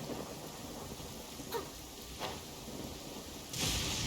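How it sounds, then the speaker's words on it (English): Steady rain falls through a Genshin Impact game thunderstorm, with soft thunder rumbles near the middle and a louder gust of rain toward the end. "Please stay indoors until the storm passes."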